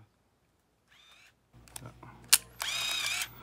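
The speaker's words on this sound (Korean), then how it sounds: "이 정도로 해서 뚜껑을 닫고 S 위치에서 셔터 한번 눌러주면" A Polaroid 232SL motorized fixed-focus automatic camera fires its shutter with a sharp click, followed by a whirring motor burst as it runs, close and fairly quiet, after a brief mechanical rustle.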